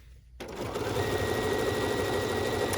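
A Bernina sewing machine starts up after a brief quiet moment and runs a steady, fast stitching whir with a rapid mechanical chatter, sustained close and loud to the end.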